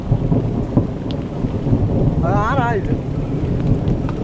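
A low thunder rumble rolls beneath steady rain, with a brief warbling chirp in the middle and faint background noise.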